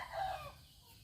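Laying hens inside a henhouse give one close, loud call near the start, and quieter clucking and rustle follow.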